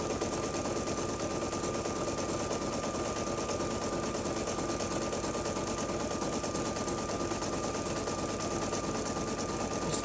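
An embroidery machine stitching a tack-down line across the top piece of a lined zipper bag, a steady, dense mechanical whir and buzz running unbroken and fairly loud throughout, with no voices.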